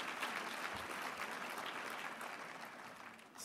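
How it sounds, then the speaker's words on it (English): A large audience at an evening awards event applauds steadily, a dense sustained patter of many hands clapping that eases slightly toward the end, heard alone without talk. "Please, give yourselves a big round of applause."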